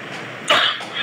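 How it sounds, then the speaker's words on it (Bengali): A man gives a single short, dry cough, close and moderately loud, in a quiet indoor room during a lecture. "একটু কাশি হয়ে গেছে।"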